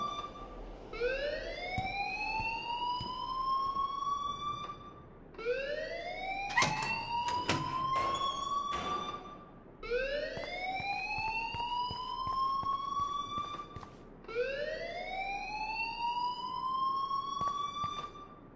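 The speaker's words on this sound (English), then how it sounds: "please turn off that alarm since that's your job" A fire alarm wails in the video game Life is Strange, with four long rising siren sweeps, each rich in harmonics, repeating steadily and loudly, with a brief burst of clattering noise during the second sweep.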